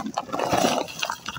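Dry, crumbly leaf compost, dark like charcoal chunks, tumbles out of an opened sack in a steady loose rush lasting over a second, with brief pauses near the end.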